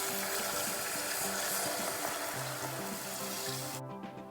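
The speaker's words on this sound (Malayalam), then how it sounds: "ഇനി ഇതിലേക്ക് 1 ലിറ്റർ പാല് നമുക്ക് ഒഴിച്ചു കൊടുക്കാം." A litre of milk pours steadily into semiya payasam for a butterscotch version, making a continuous rushing splash under soft background music before it stops abruptly near the end.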